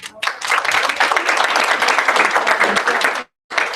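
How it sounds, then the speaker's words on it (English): Close, loud audience applause for volunteers at a university foundation kickoff event, crisp hand claps in a thick burst that cuts off abruptly, then resumes briefly. "So I'd like everybody to take the time to give them a round of applause."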